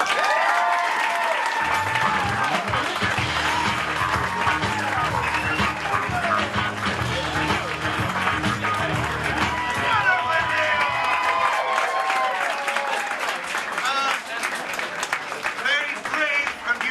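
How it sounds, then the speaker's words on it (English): A crowd at a live gig, the first-ever performance of a speaker, breaks into sustained applause with cheering, loud and close, while a voice talks over it. "let's have a round of applause"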